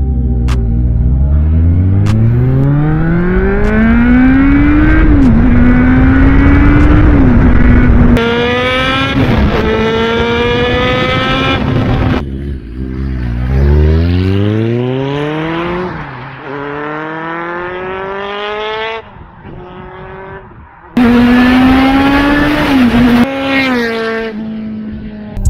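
A Kawasaki Z750 motorcycle engine revs hard and high through repeated climbing sweeps, loud and close, with gear changes and brief drops between pulls.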